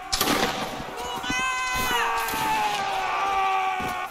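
Gunfire crackles in a multiplayer Napoleonic-era video game as a line of muskets fires a volley, with sharp reports early on amid ringing tones and players shouting over voice chat.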